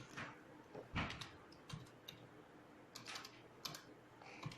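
Quiet typing on a computer keyboard while entering text into an HTML file, irregular clusters of soft key clicks heard close and faint, without speech.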